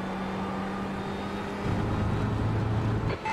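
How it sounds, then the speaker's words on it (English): A faster race car in iRacing closes in, its engine a steady droning whine over the nearer car's engine note, with the pitch shifting as it draws alongside. "There's a faster car approaching."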